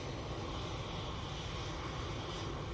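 An Etihad airliner's engines roar at Manchester Airport, a steady, broad, fairly distant whine and rush that holds constant throughout with no talking.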